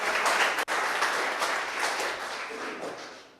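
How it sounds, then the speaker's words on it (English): Audience at an entrepreneur speaker series event applauding a guest, a full, even round of clapping from a crowd that holds steady and then tapers slightly, with no talking over it. "let's give Ben a round of applause"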